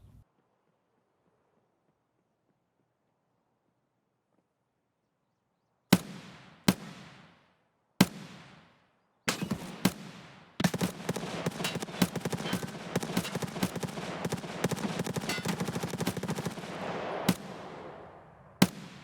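Gunfire from Escape From Tarkov: after about six seconds of near silence come three or four sharp single shots. A dense, sustained burst of rapid fire follows and holds loud to the end, with a few last cracks ringing out.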